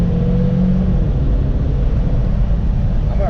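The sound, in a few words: Saab 9-3 turbo car engine revving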